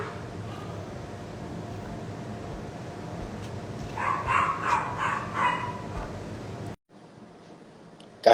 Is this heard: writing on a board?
no